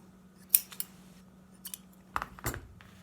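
Scissors snip through twine wrapped on a Clover pom pom maker, giving several crisp, close metallic cuts spaced out over a quiet background hum.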